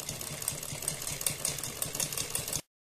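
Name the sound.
sewing machine stitching around the edge of a fabric neckline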